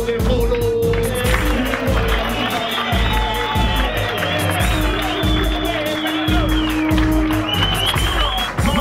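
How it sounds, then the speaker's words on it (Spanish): A noisy crowd at a street protest in Colón, Panama, claps, cheers and shouts in a loud, continuous wall of sound, with rhythmic chanting or voices running through it the whole time. "Un aplauso para el pueblo de Colón."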